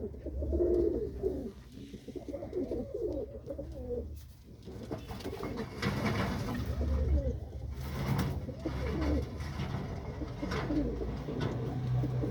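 Pigeons coo steadily in a dim evening loft where a hen sits in a nest box, repeated throaty bubbling calls overlapping at close range with a low room rumble beneath and no talking.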